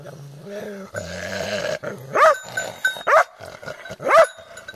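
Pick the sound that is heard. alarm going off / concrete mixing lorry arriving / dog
dog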